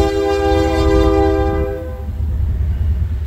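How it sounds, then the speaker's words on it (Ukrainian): A train passes very close to the track beside an apiary, sounding a loud, sustained horn for nearly two seconds before it cuts off, leaving a heavy rumbling roar of the passing cars. "зараз може бути голосно, бо поїзд їде."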